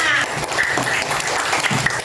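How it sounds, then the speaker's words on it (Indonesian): Classroom applause from a group of pupils at the end of a lesson, a dense, steady burst of clapping close by that lasts the whole moment, with a voice briefly audible underneath. "Tepuk tangan untuk kita semua."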